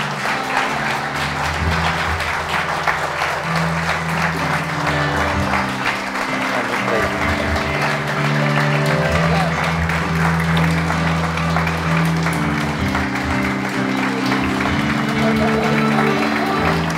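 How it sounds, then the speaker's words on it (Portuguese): Standing ovation in a church during a wedding service, sustained crowd applause running throughout over a steady musical backdrop of held organ or keyboard tones. "Um aplauso de pé, amados."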